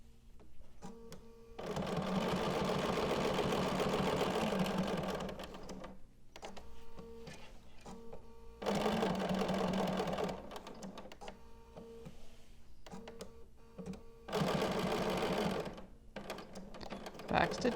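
A sewing machine with a jeans needle stitching double seams on denim, running in three long rapid whirring bursts separated by brief pauses with faint clicks and handling noises, close up.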